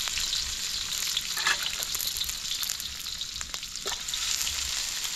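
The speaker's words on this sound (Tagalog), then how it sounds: "Yan natin yung bawang mag golden brown" Garlic fries steadily in oil until golden brown, giving off a constant bright sizzle with a few soft stirring scrapes and no voices.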